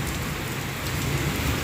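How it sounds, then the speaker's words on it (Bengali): Rain falls steadily on a dark Sunday afternoon, an even close wash of patter with no voices. "কীরকম বৃষ্টি দেখো"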